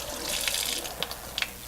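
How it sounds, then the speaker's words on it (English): Tap water runs into a container to fill it for a one-liter mead yeast starter. It makes a soft, brief splashing trickle with a few small gurgles, heard up close and fairly quiet. "we're going to add water. To the 1 liter mark."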